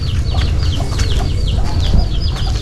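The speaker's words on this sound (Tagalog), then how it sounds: "Hi, mga manok." Chickens cluck steadily and close by, a busy overlapping chatter of several birds with no talking.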